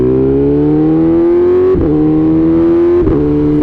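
A BMW M 1000 RR motorcycle engine revs hard and steadily climbs in pitch, broken by two quick-shifter gear changes, loud and close throughout.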